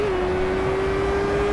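A Formula Renault race car at Imola in a racing video game holds a steady, sustained engine whine at nearly constant pitch, loud and unbroken, with no talk over it.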